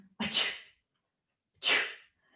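Two sharp, breathy sneezes, about a second and a half apart, each a sudden loud burst with nothing else around them.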